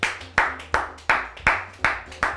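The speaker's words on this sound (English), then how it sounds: "We need a round of applause for Benjamin Lee." Seven sharp claps spaced about a third of a second apart, a steady single-person clapping rhythm rather than a full crowd, loud and close with no talk over it.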